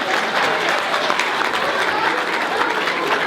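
A dense, loud crowd applauds a two-time world champion football freestyler as he is introduced at a football challenge event, a continuous roar of clapping with cheering mixed in.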